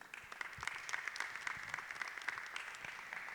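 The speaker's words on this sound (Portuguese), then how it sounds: "Você que crê e pode, dê uma salva de palmas ao Senhor." A church congregation claps in praise to the Lord, a fairly quiet, distant patter of many hands with individual claps audible as uneven sharp taps throughout.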